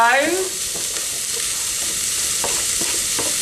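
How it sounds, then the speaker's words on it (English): Diced vegetables sizzle and fry in a hot pan for Mexican rice, a close, steady crackling hiss with a few soft stirring scrapes. "I'm going to fry these now until these start to soften like the spring onions have"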